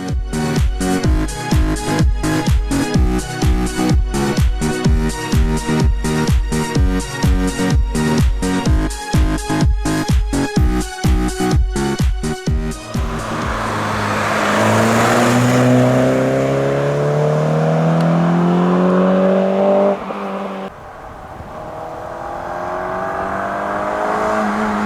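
A Peugeot 205 GTI 1600 engine revs hard in rapid rhythmic bursts, then gives way to a rising and falling roar of the car accelerating through the gears. The sound is loud and close, with no talk.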